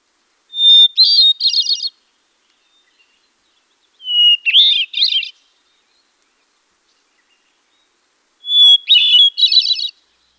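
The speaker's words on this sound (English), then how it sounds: "So that is the song of a hermit thrush" A hermit thrush sings three spaced phrases, each opening on a pure whistled tone and breaking into a quick ethereal flourish, heard alone against a silent background.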